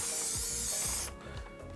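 A can of cooking spray hisses steadily as it greases a cake pan for a sponge cake, loud and close, then cuts off, leaving a quiet room.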